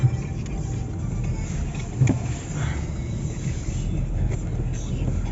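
A Renault Megane dCi diesel car drives along, its steady low engine drone and road rumble heard from inside the cabin, continuous and moderately loud with a brief bump around two seconds.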